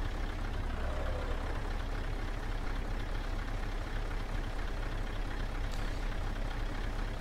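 Scania R420 truck in Euro Truck Simulator 2, a steady low engine drone heard from inside the cab with faint rumble and no other events, constant and moderately quiet throughout.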